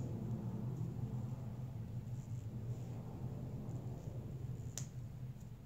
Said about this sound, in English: that is an airplane going by, if you can hear that